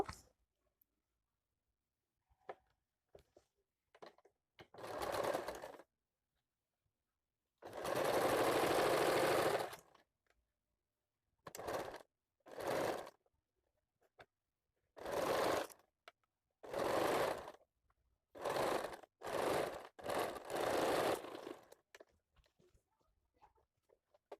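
A sewing machine stitches a hook strip onto a blouse in short bursts of fast whirring, one longer run and several brief ones, each separated by near silence, close and fairly quiet.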